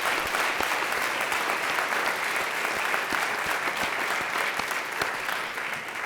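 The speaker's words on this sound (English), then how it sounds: "Could we give them a round of applause, please?" Dense, steady applause from a large audience at a university State of the University address, sustained evenly for several seconds with no talk over it.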